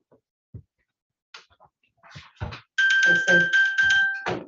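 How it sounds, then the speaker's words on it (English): A phone alarm goes off during a board meeting, sounding as a loud, steady electronic ringing tone that starts abruptly after scattered speech and continues for nearly two seconds. "My phone alarms for the end of the block."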